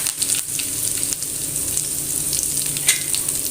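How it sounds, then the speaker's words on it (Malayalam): Curry leaves frying in hot oil after a batch of chicken pakoda, a loud, continuous crackling sizzle close by with small spits and pops throughout. "നല്ലൊരു ഫ്ലേവറാണ് കറിവേപ്പിലയും കൂടി ഇങ്ങനെ വറുത്തിട്ട് അതിൻ്റെ കൂടെ ഇടാം"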